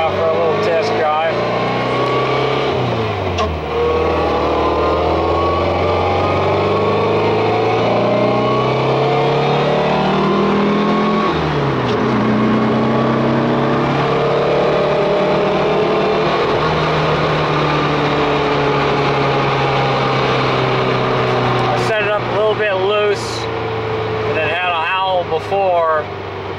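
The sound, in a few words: VW car driving on test drive after transmission upgrade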